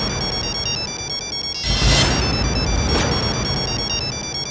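A mobile phone ringtone plays a steady, loud electronic melody. Noisy scraping and rustling from a scene cut over the middle of the clip partly covers it.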